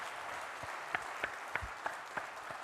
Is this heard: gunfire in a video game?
no